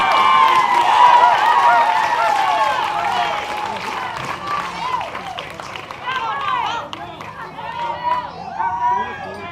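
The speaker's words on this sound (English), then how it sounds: "You can hear the crowd start to get loud." A baseball crowd at an American Legion game in South Dakota swells in noise during a full count, with cheering and chatter building under a commentator's ongoing talk.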